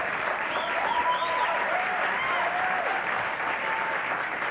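Audience applause in a room after a comedic remark at a post-fight event, steady dense clapping holding at an even level from start to finish with no voice over it.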